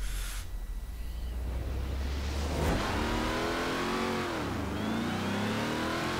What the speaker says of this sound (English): supercharger whine and the turbo takes off